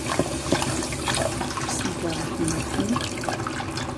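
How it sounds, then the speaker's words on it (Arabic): Milk poured into a chicken pasta sauce while a whisk stirs it, making a steady rushing liquid sound with soft churning throughout as a voice briefly speaks. "انا بضيف اللبن ودي التانية بنقلب بالمضرب"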